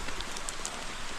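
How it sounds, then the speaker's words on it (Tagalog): Rain falls steadily at an outdoor fishing spot, a constant soft hiss with a few faint drop-like ticks and no talk. "Maulan."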